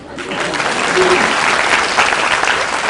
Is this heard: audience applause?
yes